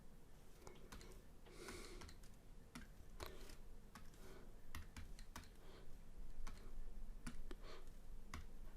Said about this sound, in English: So we can just type that straight into our calculator like so